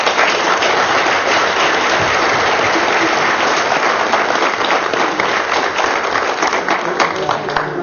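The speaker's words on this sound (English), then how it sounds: "Let's give them a round of applause." Audience at a tribal council meeting gives a sustained round of applause, dense steady clapping from many people filling the room at an even level, with faint voices beneath.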